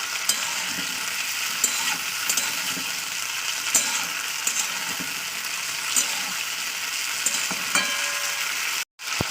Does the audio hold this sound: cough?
no